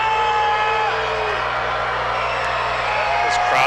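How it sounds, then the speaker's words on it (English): Loud arena crowd roaring and whooping at a professional basketball game between the KW Titans and Niagara River Lions, a dense continuous wall of cheers with scattered shouts throughout. "This crowd gets loud."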